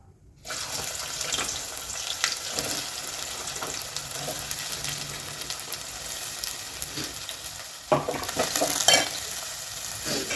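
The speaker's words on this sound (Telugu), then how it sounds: "ఆయిల్ మంచిగా వేడెక్కిందండి ఇప్పుడు ఆనియన్ వేసుకుందాం" Onions hit hot oil for a chicken fry, setting off a steady close sizzle that swells again near the end as they are stirred, with no voices.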